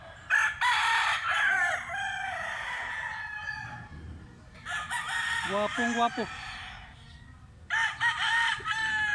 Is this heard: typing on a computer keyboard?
no